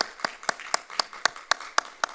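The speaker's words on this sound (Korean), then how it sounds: "다시 한번 큰 박수 보내주시기 바랍니다." Rhythmic hand claps ring out during a church service, eight evenly spaced, fairly faint claps in a steady beat with no voices.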